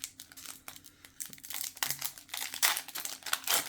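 Pokémon XY Evolutions trading card booster pack being torn open by hand, with close, crisp crinkling and ripping foil wrapper sounds in irregular bursts growing louder toward the end.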